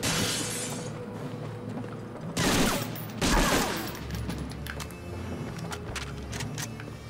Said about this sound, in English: I do not know who is shooting at me